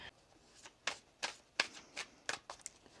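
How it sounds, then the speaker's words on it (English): Tarot cards riffled and shuffled in a series of crisp, quick bursts, close by, with no talking. "One more shuffle."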